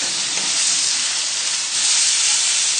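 Loud, steady sizzle and hiss of cod frying in a hot pan, crisping on the skin, a dense continuous spatter close up with no talk.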